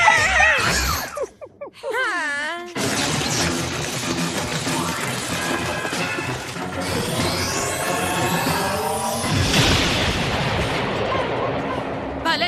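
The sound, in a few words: explosion blast in cartoon episode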